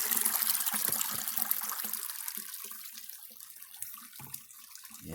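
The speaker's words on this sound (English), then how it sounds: "We got a little waterfall going on." A small waterfall of clear water spills over bedrock in a Forsyth County creek. It makes a continuous close splashing trickle with small bubbling bursts throughout.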